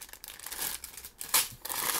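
A plastic parts bag from a large Lego Ninjago set is handled and torn open, giving close, irregular crinkling and rustling bursts with a sharper tearing moment midway.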